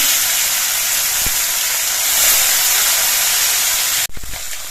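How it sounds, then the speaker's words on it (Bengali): Sarpunti fish frying in mustard oil hisses in a loud, steady spray that cuts off abruptly near the end, followed by a few soft knocks. "পাখি মাছ দুটো ভেজে নিচ্ছি"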